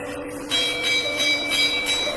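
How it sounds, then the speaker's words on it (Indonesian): A bell in a film set during the Indonesian independence struggle warns that Japanese soldiers are approaching, struck in an even, rapid series of ringing strokes over a low background hum, with no talking. "mendengar sebuah lonceng yang menandakan prajurit Nippon akan datang"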